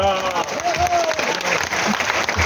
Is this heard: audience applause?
yes